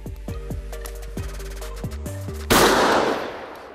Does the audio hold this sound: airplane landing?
no